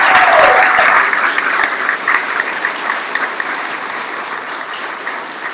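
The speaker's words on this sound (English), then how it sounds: "Let's have one more round of applause for all the award winners" A big round of applause from a dinner crowd at a Marine Corps awards evening for award winners, loud at first and gradually thinning out.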